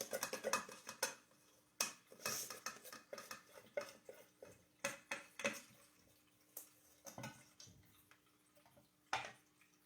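Utensil scraping deviled egg filling from a bowl, a run of irregular clinks and scrapes of metal against the dish, close and fairly quiet with short pauses between strokes.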